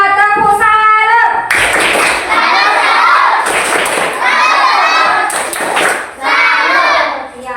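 A classroom of sixth-grade children claps loudly together in a patterned rhythm, with short bursts of shouting and cheering between the clap groups, close and lively.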